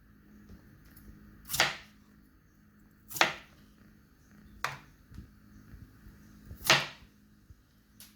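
Knife chopping peeled Irish potatoes on a board, four separate crisp cuts spaced about a second and a half apart, close and moderately loud over faint background hum.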